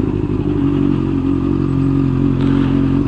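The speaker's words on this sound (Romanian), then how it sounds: "Ia uitați câte motoare." Many motorcycles idling and revving in rush-hour city traffic in Timișoara, a steady dense engine rumble with some clatter, close and continuous, with no talk.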